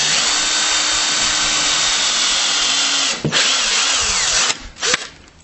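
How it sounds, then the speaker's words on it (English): A power drill bores through material that tends to clog the bit, a loud steady high whine for about three seconds, then a pause, a brief restart and a last short burst. "when you drill through this material, it'll clog the bit up"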